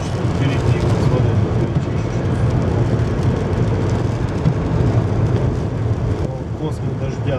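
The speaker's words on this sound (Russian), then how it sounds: "Ливень в Аризоне." Heavy desert downpour in Arizona at about 5,000 feet, heard from inside a car: a loud, steady roar of rain that fills the whole stretch without a break.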